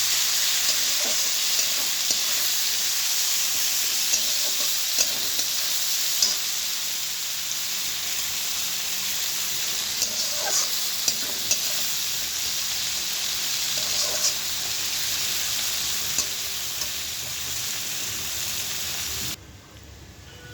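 Onion frying in oil with a bay leaf in a pan gives a steady, dense sizzle with occasional spatters and clicks throughout. The sizzle is close and even, then drops off abruptly near the end, with no talking.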